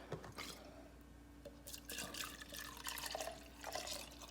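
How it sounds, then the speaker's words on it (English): Rubbing alcohol at 70% concentration poured into a container for homemade hand sanitizer: a steady close liquid trickle and splash with small drips, continuous for a few seconds with no talk. "Now we're going to add the rubbing alcohol."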